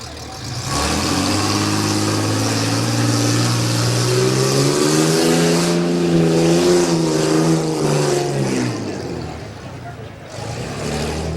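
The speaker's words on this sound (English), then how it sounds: "Rosine, 1994 Ford Ranger, sponsored by Discount Tire." A 1994 Ford Ranger rough-truck competitor's engine idles loudly, then revs up in a long rising-and-falling sweep before settling back and climbing again near the end, with an announcer's voice running underneath.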